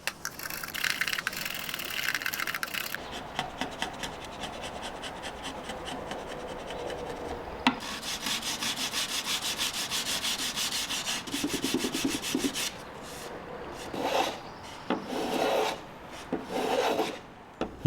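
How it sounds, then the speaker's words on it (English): Wood being worked by hand on an antique painted dresser with pine drawer fronts and a maple top: a steady, close rasping scrape of sanding block and hand plane strokes, continuous at first, then breaking into separate rhythmic passes near the end. "I'll work at this with a chisel, a hand plane, and a sanding block until I'm satisfied with the results."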